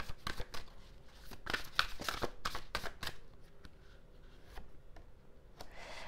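Tarot cards are shuffled by hand for a reading in a series of quick, soft riffles and slaps. The sound is close and fairly quiet, and it comes in irregular bursts with short pauses between them and no speech.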